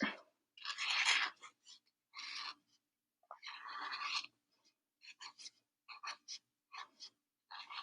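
A blue marker drawing an anchor on paper gives close, quiet scratchy strokes in short bursts, some long and some brief, separated by silent pauses.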